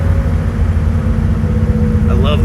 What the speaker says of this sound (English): I love the whine of the M20 too.